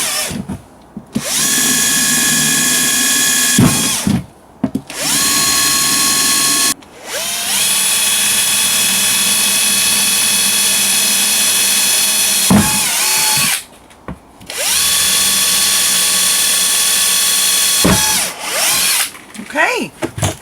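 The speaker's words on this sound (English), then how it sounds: "So I'm going to drill some holes in the bottom of my box next thing." A power drill bores drainage holes through the bottom of a plastic worm box. It gives repeated whining bursts of several seconds each, separated by short pauses, loud and close.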